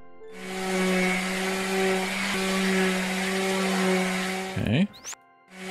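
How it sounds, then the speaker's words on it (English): A power sander buzzes steadily over a wooden toy piece in Toy Tinker Simulator, a loud sustained whine with strong harmonics for about four and a half seconds before winding down, followed by short clicks. "Let's go ahead and hit up the power sander first."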